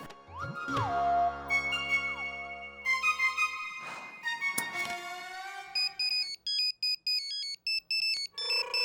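A phone ringtone plays close by, a melodic electronic tune shifting into a rapid repeating pattern of high beeping tones.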